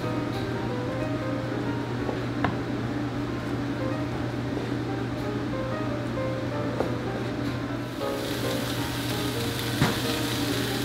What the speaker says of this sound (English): Once our pot roast is on the hot sizzle plate, we're going to smother it in the gravy.